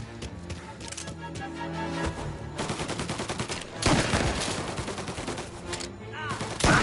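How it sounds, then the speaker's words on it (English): Gunfire in a crime action video game, with rapid bursts of automatic shots and fast volleys that grow louder and denser toward the end, mixed with some game voices. "All on-duty officers, gunshots being reported."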